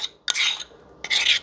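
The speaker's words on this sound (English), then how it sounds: "Now we're going to add in the strawberries and mix that up." A spoon scrapes and rasps through crumbled muffin batter as strawberries are mixed in by hand in a bowl, in two short, close, gritty bursts.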